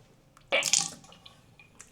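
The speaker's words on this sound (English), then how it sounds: "I spit the water out." A single close splash of rinse water spat out of the mouth into a sink, followed by faint dripping and trickling, with a second short spurt at the very end; no talking.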